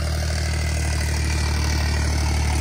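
A John Deere tractor fitted with a turbo runs steadily at idle, a deep, even diesel rumble with constant loudness throughout and no voices.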